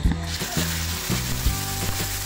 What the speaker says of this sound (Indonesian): Oke, kita goreng ikan lelenya. Pastikan ya minyaknya sudah panas.